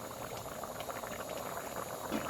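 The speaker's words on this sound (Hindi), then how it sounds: "15 मिनट हो गए हमारे आलू पकते हुए" Half a kilo of potatoes bubbles at a steady rolling boil in a pot while cooking for a namkeen gosht mutton dish. The dense, even bubbling is close and continuous, with no talking.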